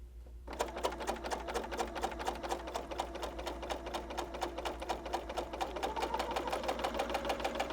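A Bernina L890 sewing machine stitches a rolled hem, its needle hammering in a steady, fast rhythm, close and clear with no talk over it.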